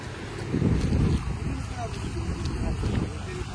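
Wind buffets the microphone with a low, rushing rumble that swells and eases, loudest near the start, on an active volcano in Ethiopia.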